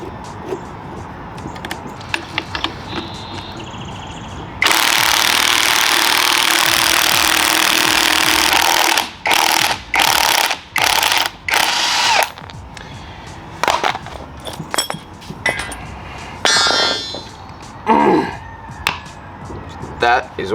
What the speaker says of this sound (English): then I need to compress the new springs to put the top hat from the OEM top hat onto the Dobinson springs